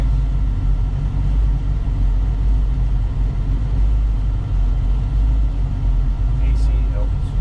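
Cabin of a 1967 Chevelle custom cruising with the AC running, on big sway bars, stock springs and Bilstein shocks, giving a constant low engine and road rumble, with someone talking over it.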